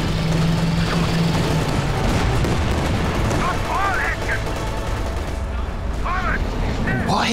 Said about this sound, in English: I'm firing Panzerwerfers there.